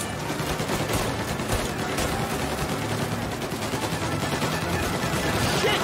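Sustained gunfire in Mafia: Definitive Edition, a dense run of overlapping shots and bursts crackling continuously throughout, with a chaotic firefight atmosphere and occasional voices.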